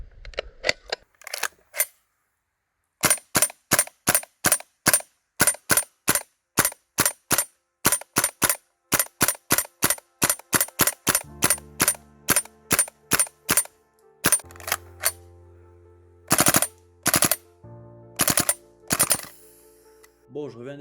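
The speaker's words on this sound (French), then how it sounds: "je reviens des tests de tir de la SCAR H" A WE SCAR-H gas blowback airsoft rifle fires a long series of sharp, loud single shots at a steady semi-automatic rhythm, later joined by a low mechanical hum and a few spaced, heavier cracks.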